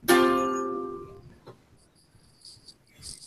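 A single strummed sus2 chord rings out brightly and fades over about a second, leaving faint, quiet background noise.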